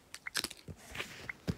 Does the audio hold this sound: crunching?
yes